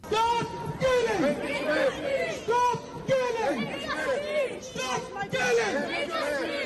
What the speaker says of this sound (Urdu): مظاہرین نے کشمیر کی آزادی اور بھارت کے مظالم کے خلاف نعرے لگائے۔